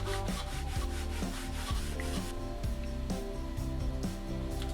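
Sandpaper rubs steadily over wooden sticks and the edges of a model RC biplane fuselage, a continuous close scratching with music playing underneath.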